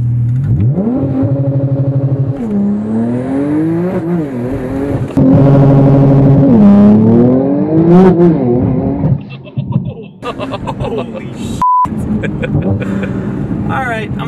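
A 900-horsepower Porsche Turbo launches hard on a backroad, its engine climbing through rising tones and shifting gears as it accelerates, loud and close from inside the car, with people talking over it.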